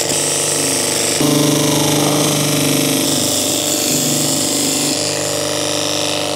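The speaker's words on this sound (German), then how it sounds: "Mein Sägeblatt ist wahrscheinlich schon stumpf und es ist halt Eiche" A power saw with a probably dull blade cuts through oak hardwood, giving a loud, sustained high whine with a shift in pitch partway through, close by and with no talk.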